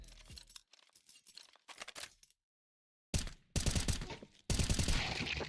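Rapid bursts of gunfire from a shooter video game arrive in dense clusters, with a brief silent gap before louder, harsher volleys close in.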